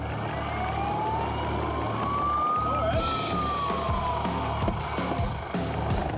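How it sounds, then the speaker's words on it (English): A siren sweeps slowly up and then back down, sounded as a warning by a rescue helicopter over a beach, heard at moderate distance over a steady background rumble. "The Westpac rescue chopper sounds a warning siren."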